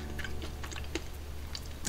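Close-up crunchy chewing of air-fried frozen waffle fries, with repeated crisp bites and mouth sounds over a low steady background hum.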